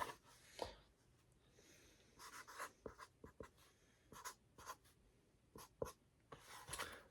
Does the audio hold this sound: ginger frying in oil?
no